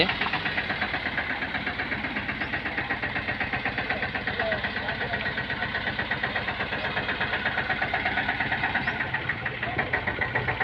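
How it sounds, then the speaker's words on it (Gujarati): A tractor engine idles with a steady, rapid chugging pulse that stays even throughout, loud and close. "બધાએ ટ્રેક્ટર શરૂ કરી દીધું છે"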